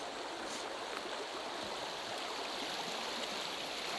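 A stream flows beneath an uneven, moss-covered stone bridge in a misty forest, giving a steady, even broadband rush of water that carries on unbroken throughout.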